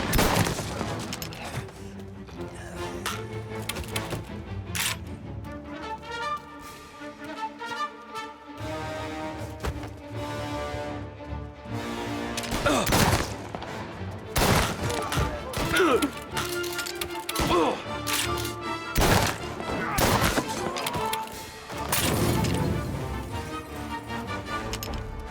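A loud shootout in the Mafia Definitive Edition video game, with bursts of rapid gunfire and single sharp shots ringing out alongside crashes over about twenty-five seconds.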